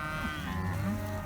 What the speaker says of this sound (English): let those cattle settle